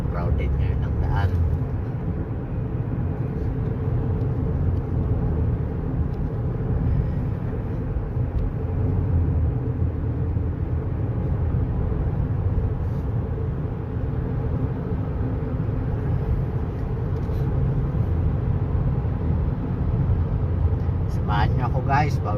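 Steady, dense roar of busy road traffic in Saudi Arabia on a Friday holiday, with many cars passing continuously and close by, a constant wash of engine and tyre noise with no breaks and a few faint voices mixed in.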